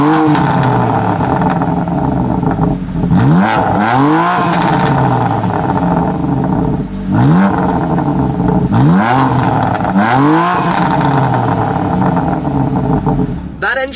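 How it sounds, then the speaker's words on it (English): A BMW M3 CS engine idling and revving after a push-button start, a loud close rumble with repeated rising and falling throttle blips in a rhythmic pattern, continuous and without speech. "That engine sound is a particular talking point."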